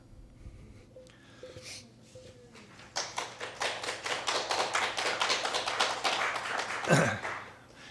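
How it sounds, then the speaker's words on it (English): Audience applause after a poem reading, starting as a few scattered claps and swelling into steady, fairly close clapping from a crowd. "I appreciate your applause, but you can hold it until the end if you don't mind."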